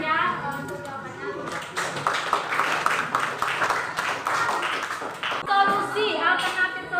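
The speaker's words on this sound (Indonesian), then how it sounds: "biar tepuk tangan ya untuk jawabannya" Classmates clap for a group's answer during a lesson on bullying in school, steady clapping for several seconds mixed with chatter and voices.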